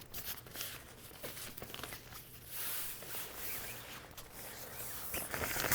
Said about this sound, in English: You use the zipper in order to open it up and access the other colors and the other sides of your reflector.